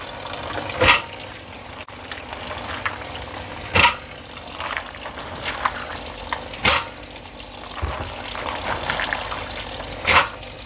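Tap water runs over beans being rinsed, a continuous splashing flow punctuated by four or five sharper bursts spaced a few seconds apart as the beans are stirred or shaken.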